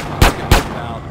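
Two sharp gunshots crack in quick succession, loud and close, in gameplay of GTA San Andreas.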